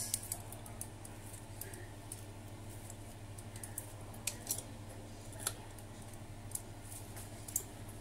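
Spam being cut into small pieces for a child in a home kitchen, heard as faint, sharp snipping clicks scattered irregularly over a steady low hum.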